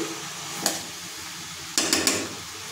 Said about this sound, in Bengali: এবার দিয়ে দিচ্ছি কুচনো লাউ। কিছুটা মিশিয়ে নেব। আমি ভালো করে মিশিয়ে নিচ্ছি।